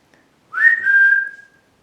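A single rising then steady whistle from a person outside a quiet old theatre, about one second long, distant and alone in near silence.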